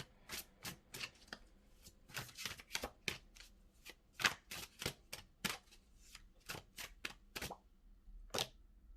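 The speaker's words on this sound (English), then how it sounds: "let me draw our last card" Tarot cards are shuffled and drawn by hand, a quiet, close series of crisp riffling snaps and slaps coming in irregular bursts, with no talking.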